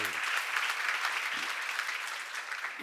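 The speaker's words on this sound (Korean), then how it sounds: "박수로 하세요." An audience at a church seminar claps together, a dense, even patter of applause held for about three seconds.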